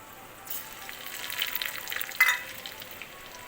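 Cumin seeds, crushed garlic and dried red chillies hit hot oil for tempering, a soft sizzle that builds and crackles, then settles into a quieter steady fry, with no talking.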